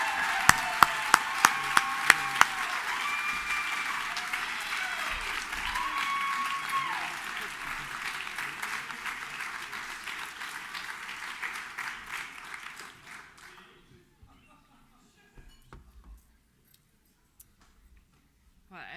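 An audience applauds at a college athletics hall of fame induction ceremony, a few sharp claps swelling into sustained hall-filling clapping that fades out after about thirteen seconds, leaving near quiet and a voice starting to speak.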